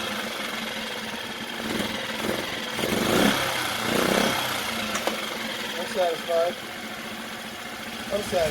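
A Mercury 4hp outboard motor idles low and steady at close range, with a voice talking over it through much of the stretch.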